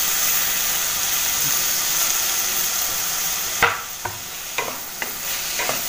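Garlic and chili powder frying in hot oil, a steady loud sizzle and hiss running throughout, joined near the end by several sharp scrapes and knocks of stirring.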